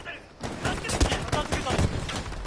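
Rapid gunfire in a Battlefield V multiplayer match: a quick quiet moment, then a dense run of close, loud shots and cracks with a sharp boom near the middle, with a voice talking over it.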